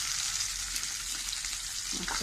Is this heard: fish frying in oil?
yes